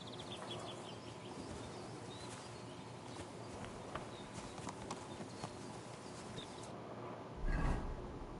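Rhythmic horse hoofbeats from a video game clop steadily at a walking pace over a busy outdoor ambience, with a louder thump near the end.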